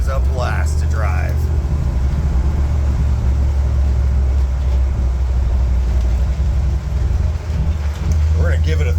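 A 1986 Ford Bronco with an EFI 460 V8 lugging in fourth gear, a loud steady low engine rumble with road and wind noise, someone talking over it in the cabin.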